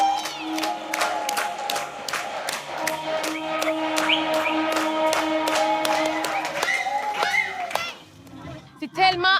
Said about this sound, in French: Alors, tout le monde commence à applaudir.